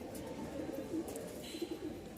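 Pigeons coo in soft, low rolling bursts, a couple of close murmured phrases over a steady hum with a faint chirp near the end.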